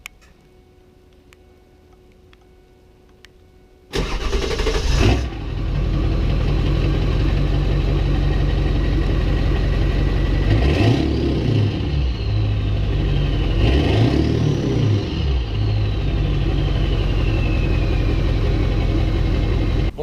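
A Ford 7.3 Powerstroke diesel truck with a 4-inch straight-pipe turbo-back exhaust and a 10-inch tip fires up after a few seconds of near silence. It settles into a loud, rumbling idle, with two short revs that bring a rising turbo whistle.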